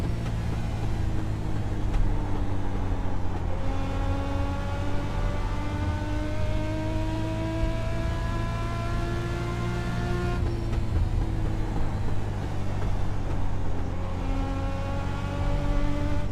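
Race car lapping the New Smyrna track in a racing video game, a loud steady engine drone with rising and falling gear-change pitch sweeps, continuous and close with no speech.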